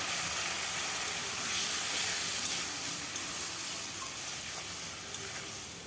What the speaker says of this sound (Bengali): ভাজতে ভাজতে এরকম জলটা শুকিয়ে এসেছে, মশলা ভাজা হয়ে গেছে। মশলা কষানোর জন্য দিয়ে দিলাম সামান্য একটু জল।